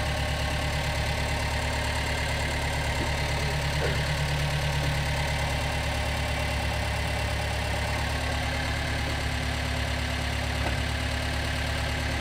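Engine of a Gehl 3510 skid steer running steadily, a loud continuous idle with a low rumble and knocking pulse, close up and uninterrupted, no talking.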